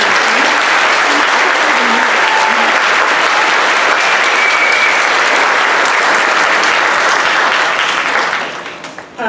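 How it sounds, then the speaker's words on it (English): An audience at a middle school spring band concert gives a long, loud burst of applause, a thick continuous roar of clapping that holds strong for about eight seconds before quickly dying away. "Can we give them one more round of applause?"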